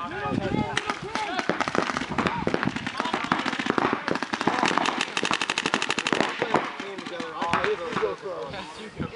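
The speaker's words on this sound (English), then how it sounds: "Watch out, Jack, shooting you!" Video-game gunfire rattles in rapid machine-gun bursts and single shots almost without a break, loud and close, while players talk excitedly over it.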